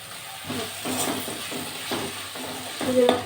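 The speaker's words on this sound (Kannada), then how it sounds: "ಮೆಣಸಿನ್ಕಾಯಿ ನೋಡಿ ಎಷ್ಟು ಚೆನ್ನಾಗಿ ಫ್ರೈ ಆಗಿದೆ" Green chillies and vegetables frying in a pan for restaurant-style vegetable fried rice, a steady sizzle broken by repeated scraping stirs, close by, the last stroke a little louder, with no talking.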